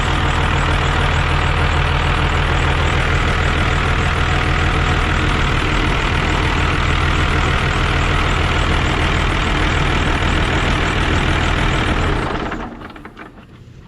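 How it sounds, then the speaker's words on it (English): A Cummins 5.9 12-valve diesel engine in a truck idles loud and close with a steady, deep clatter, then shuts off and winds down to quiet at the end. "I've actually never had this thing fire up this easily and this nicely."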